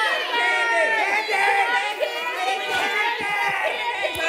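Crowd of children cheering and shouting together at a kindergarten-to-8th-grade school assembly, a dense, loud, sustained wall of high young voices throughout.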